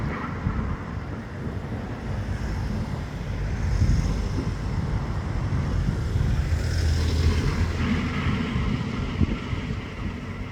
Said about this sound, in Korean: 바람이 불면은 또 은행잎이 막 또 떨어집니다